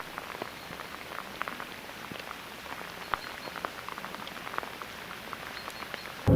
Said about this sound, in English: it's morning and it's raining.